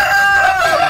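White Leghorn chickens on a farm, with a rooster's drawn-out crow carrying through the full second, loud and close with no talk over it.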